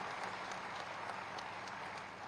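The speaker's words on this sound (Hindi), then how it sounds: "एक बार जोरदार तालियों के साथ स्वागत करते हैं" Applause from the audience at a public welcoming ceremony for a chief minister in Saharanpur, a steady, fairly distant wash of clapping with no voices, holding evenly before easing slightly at the end.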